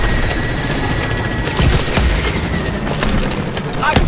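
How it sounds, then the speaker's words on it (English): Bursts of futuristic gunfire and booms in Call of Duty Advanced Warfare fill a loud, dense combat mix, with shots cracking over continuous battle noise. "Mitchell, target behind those MCDs and return fire"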